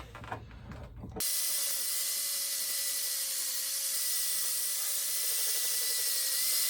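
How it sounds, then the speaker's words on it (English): An Evansville axe head held in a C-clamp is sharpened: a steady, abrasive hiss with a thin whine runs unbroken for several seconds after a short, rougher start. "I'm using just a C-clamp to do that because my vise, it doesn't hold it right for me the way I prefer to sharpen it"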